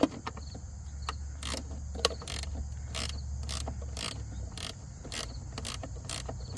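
A ratcheting gear wrench turns a pulley bolt on a Husqvarna AWD mower, giving quiet, evenly spaced clicking bursts about every half second over a low mechanical hum, close up with no talking.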